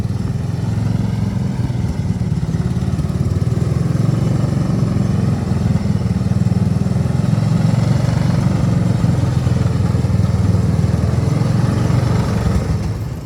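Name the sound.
1970s ATTEX 6x6 ATV engine driving off-road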